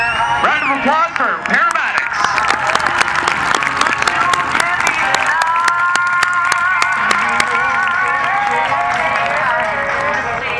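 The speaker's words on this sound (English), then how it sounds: "Give them a round of applause" Loud, sustained applause and cheering from a large air show crowd, continuous for several seconds with music and voices mixed in.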